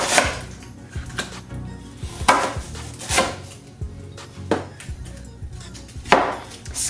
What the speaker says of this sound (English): I have here 1 onion that's already been washed, right? Just gonna chop this into 4.